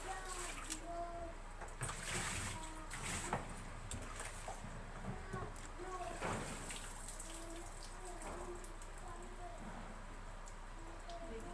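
Water runs and splashes while rinsing dirt out of an air cooler, a steady close flow with scattered drips and splatters, a low hum underneath and a person talking over it.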